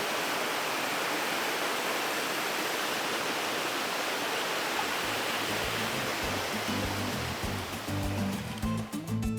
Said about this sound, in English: Yeah, Katal Dhar waterfall.